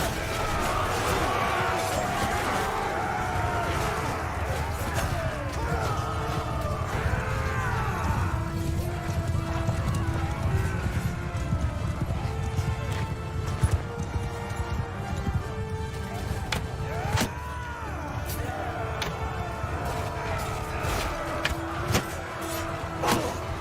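Cavalry horses gallop through a battle in Mount & Blade 2: Bannerlord, making a dense churning rumble of hooves mixed with clashing and shouting voices, with scattered sharp impacts near the end.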